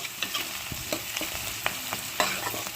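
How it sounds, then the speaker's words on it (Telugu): Onions, green chillies, coriander and curry leaves fry in a pan with a steady close sizzle, broken by frequent light spatula scrapes and taps. No voices. "ఉల్లిపాయలు, పచ్చిమిరపకాయలు బాగా వేగిపోయి ఇప్పుడు కొంచెం కొత్తిమీర, కరివేపాకు కూడా వేసేసాను"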